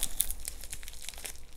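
Crinkling and tearing of tape and packaging on a taped-up parcel being pulled open by hand, a busy run of close crackles and rips without speech.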